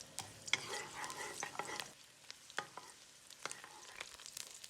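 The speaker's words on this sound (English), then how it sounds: "In the clean pan, add some oil and garlic. Stir fry to release the fragrance." Garlic stir-fries in oil in a clean pan, with faint sizzling and intermittent scraping stirs of a utensil against the pan.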